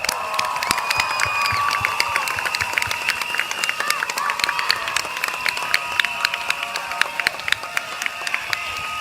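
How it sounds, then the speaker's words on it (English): An outdoor PAP election rally crowd in Singapore claps and cheers at length, dense rapid applause mixed with scattered shouts and whistles, moderately distant and sustained throughout. "A big round of applause to yourself"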